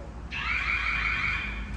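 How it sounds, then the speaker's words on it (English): A building's fire alarm starts abruptly and keeps blaring: a loud, shrill, continuous electronic tone that sounds unbroken to the end with no one talking over it. "well, I guess that was a fire alarm."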